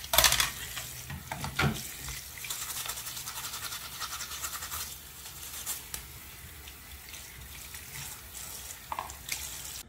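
Water running and splashing while a Texas Instruments TI-89 calculator's keyboard section is washed under a tap, with scrubbing, rinsing and light clatter that is louder at the start and then steady.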